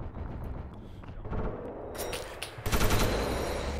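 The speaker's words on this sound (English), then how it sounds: "Who the hell is shooting us?" Gunfire in the video game Call to Arms, with dense rattling bursts and booming shots over a loud rumbling battle backdrop that intensifies toward the end; no talking is heard.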